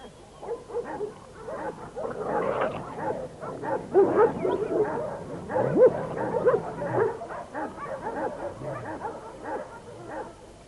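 Farm dogs squabbling at lunchtime, a jumble of barks, yips and whimpers overlapping close by for about ten seconds, rising and falling without pause.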